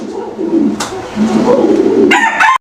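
A breeding pair of fancy pigeons coos close by in low, rolling, throaty phrases, with a few sharper flutter-like bursts breaking in.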